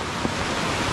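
Strong current of a flooded river during heavy rain, a steady broadband rush of churning water with wind buffeting the microphone, close and loud without pause.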